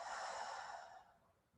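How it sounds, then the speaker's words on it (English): A single soft exhale during a core breathing exercise, a breathy hiss that fades out after about a second, close and quiet. "Exhale."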